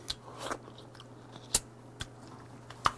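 Grilled kusaya, a pungent Japanese dried fish, being chewed close up, with soft wet mastication and a few sharp crunchy bites spaced irregularly over a low steady hum.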